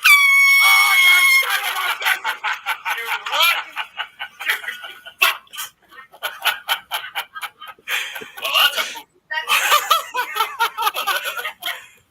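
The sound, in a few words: air horn hooked under a seat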